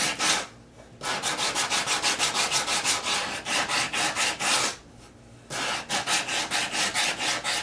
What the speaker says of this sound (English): we'll just use a sanding block. I'm using 100 grit,